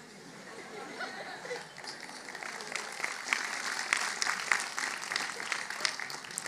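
Audience applause at a spiritual festival session, a broad wash of many hands clapping that builds and continues steadily throughout, fairly close and dense with faint murmuring beneath.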